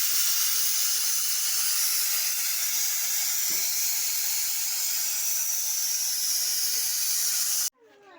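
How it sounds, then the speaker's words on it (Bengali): Raw jackfruit boiling with turmeric and salt in a pressure cooker gives a steady, loud hiss of escaping steam that runs unbroken for several seconds, then cuts off abruptly near the end. "প্রেশারে দিলাম এখন সিদ্ধ হচ্ছে হলুদ আর লবণ দিয়ে সিদ্ধ করতে দিছি"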